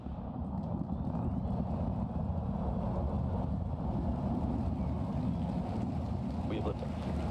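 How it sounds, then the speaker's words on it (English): SpaceX Starship rocket liftoff on Starship flight 10, heard as a steady, loud, deep broadband roar that rumbles continuously without a break. "We have liftoff."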